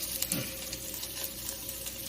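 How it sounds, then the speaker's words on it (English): Steady crackling sizzle of latkes frying in a pan, continuous and fairly close, with faint scattered pops throughout. "that crispy sizzle means that it is being cooked to perfection"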